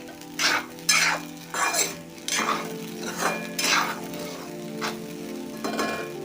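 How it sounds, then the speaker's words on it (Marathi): Sabudana being stirred in a pan, rhythmic scraping strokes of a spoon against metal recurring every half second or so over a light sizzle, close and clear, with no voices. "व्यवस्थित हलवून घ्या म्हणजे सुटसुटीत आणि मऊ ही शाबू होतो"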